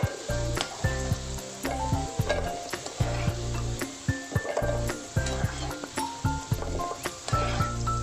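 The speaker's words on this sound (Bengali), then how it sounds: "আমার আলুগুলো লাল লাল করে ভাজা হয়ে গেছে।" Potatoes fry in hot oil until browned, giving a loud, continuous crackling sizzle broken by regular clinks and scrapes of stirring.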